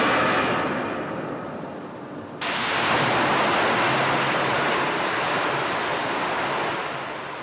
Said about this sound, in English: The noise of the rushing water and spinning generators was absolutely deafening.